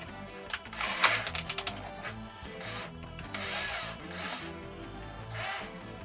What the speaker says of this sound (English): We're going to do it with a drill.